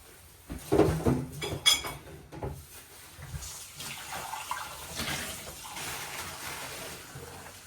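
Water poured into a cooking pot on the stove while making a paneer curry, a splashing pour with clinks of metal cookware at the start, then a softer running-water hiss fading out.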